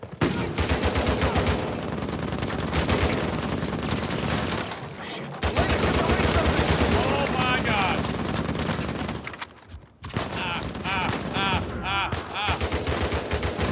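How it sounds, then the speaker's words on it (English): Gunfight in Uncharted 4, dense sustained machine-gun and rifle fire crackling almost nonstop with brief gaps, loud and close, with a voice talking over it. "we are in one hell of a gunfight once again"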